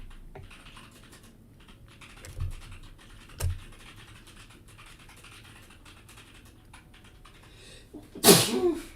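Soft scratching and a couple of dull taps, then a single loud sneeze bursts out near the end, close and abrupt.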